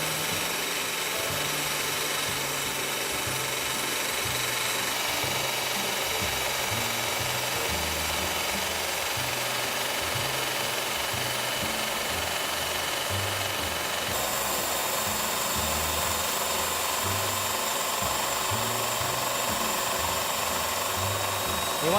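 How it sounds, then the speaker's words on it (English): A stone-cutting saw machine with its blade slowly working through stone, a steady loud grinding whir with broadband hiss and a low rumbling drone held continuously throughout, no talk. "You're going to let the blade do the cutting"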